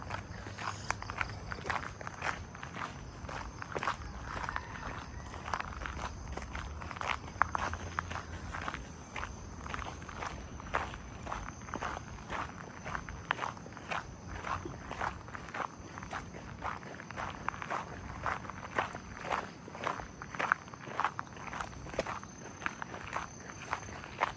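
Steady footsteps of several people walking along a coast-to-coast walking trail in Singapore, a regular crunching rhythm close by with faint insect-like background hiss, no speech.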